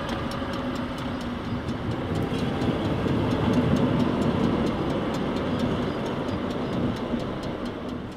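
A train rolls past on a railway, a steady loud rumble of wheels on track with a rhythmic clatter of rail joints, building slightly in the middle and holding close throughout.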